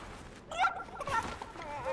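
A chicken in a video game giving a few short, close clucking squawks in quick bursts, with brief pauses between calls.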